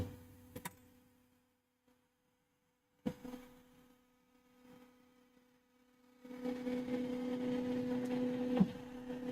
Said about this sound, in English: Printer's really freaking loud.